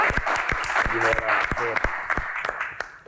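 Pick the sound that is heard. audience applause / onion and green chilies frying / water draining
audience applause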